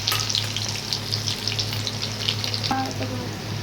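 Mustard seeds and garlic fry in hot oil for a tomato pickle, giving a close, dense crackling sizzle that runs on steadily with a few sharper pops and a brief stir near the end.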